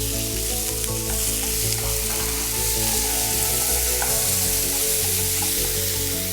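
Chopped tomato frying with curry leaves for a soya and green pea kurma, a dense, steady sizzle that holds close and loud throughout with faint stirring beneath.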